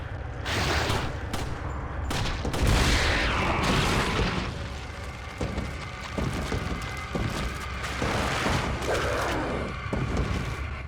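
Pistol fire and blasts in the Resident Evil 4 video game, aimed at a barrel. The loud, booming shots and bursts come in quick clusters, with rumbling impacts throughout.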